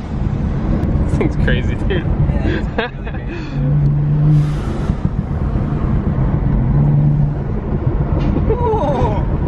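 Exhaust of a BMW 435i fitted with catted downpipes and a burble tune, heard from inside the car as a steady loud drone with a couple of deeper swells, under ongoing conversation.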